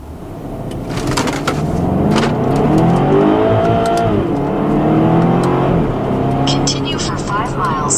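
A 2011 BMW X5 M pulls away hard in first gear, its engine rising in a loud, steady climbing drone heard from inside the cabin, then easing off, with a voice talking over it.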